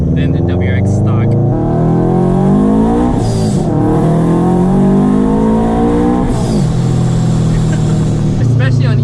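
An aftermarket boosted Subaru BRZ/Scion FR-S/Toyota 86 running on E85 accelerates hard through the gears, its loud engine rising in pitch with two brief drops at the shifts, heard up close from the cabin.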